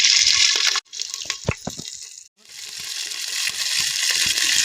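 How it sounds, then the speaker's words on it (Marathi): Curry leaves, cumin and mustard seeds hitting hot oil in a pan with red chilli, giving loud hissing, crackling sizzle that cuts out briefly twice and then resumes strongly. "थोडीशी लाल मिरची टाकली कढीपत्ता टाकणार आहे मी जिरी मोहरी टाकायची"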